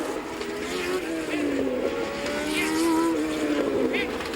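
Formula 1 race car from the 1981 Argentine Grand Prix lapping the circuit, a steady, moderately distant engine drone with pitch sweeps as it passes, running continuously under a commentator's voice.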